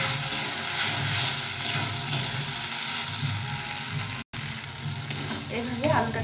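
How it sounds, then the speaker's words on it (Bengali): Potato pieces are stirred and fried with spices in a hot pan, a steady close sizzle with scraping stirs running throughout and brief clatters near the end. "এইভাবে আলুটা দিয়ে একটু ভালো করে কষিয়ে দিই"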